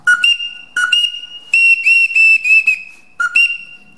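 A 6-in-1 hunting bird call whistle mimics a magpie with a string of short, shrill, chattering bursts repeated several times, loud and close.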